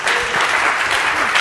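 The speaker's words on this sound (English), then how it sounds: "all of us should give her a huge round of applause" A conference audience gives a round of applause, a brief dense burst of clapping at steady loudness.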